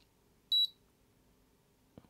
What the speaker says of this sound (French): on devrait l'entendre biper.